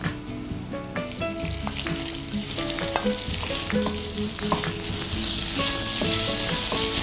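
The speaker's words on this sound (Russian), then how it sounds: "Теперь мы добавляем мелко нарезанными кусочками куриное филе." Small pieces of chicken fillet sizzle loudly in hot oil with golden fried onion, a steady crackling fry that grows denser and louder, with occasional clinks of stirring.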